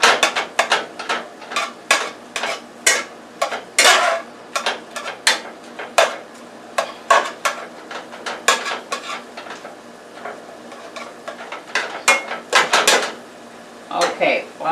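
Ground beef cooks in a pan while a utensil scrapes and clacks against the metal in quick irregular strokes, close and fairly loud, with no speech.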